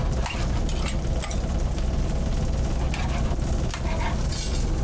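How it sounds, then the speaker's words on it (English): Onions, garlic and ginger cooking in a sauce in a Sri Lankan restaurant kitchen, a dense continuous sizzle and bubbling with scattered stirring clatter, close and steady, no voices. "I can smell the onions cooking with the sauce"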